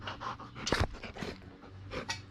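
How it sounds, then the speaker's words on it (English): A big young dog, still under a year old, pants close to the microphone in quick, rhythmic breaths, with faint outdoor rustling behind. "Not like this little dog here"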